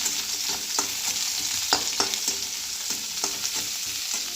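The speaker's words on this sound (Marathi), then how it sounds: "आपला ओला नारळ आणि कांदा थोडासा परतून घेत आहे" Fresh grated coconut and onion sautéing in oil in a pan, with a steady frying sizzle and repeated spatula scrapes and stirs at an uneven rhythm, close and fairly loud, no voices.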